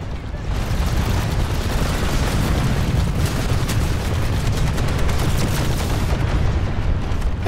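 Planetside 2 battle at a bio lab with grenades going off, delivering a dense barrage of booming blasts and gunfire layered together, loud and nearly continuous.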